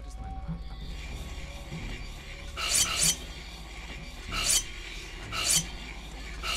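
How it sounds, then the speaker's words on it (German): A sword is sharpened on a grindstone in the video game Gothic 3, with three or four rasping scrapes standing out over a steady low hum and a quiet background. "und nochmal kurz schleifen"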